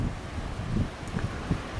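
Steady rumbling wind buffeting the microphone outdoors at beehives in January, a low continuous roar with gusty swells.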